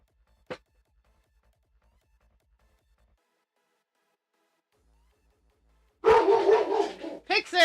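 A dog gives a single short, close bark, followed by several seconds of quiet before a person begins talking.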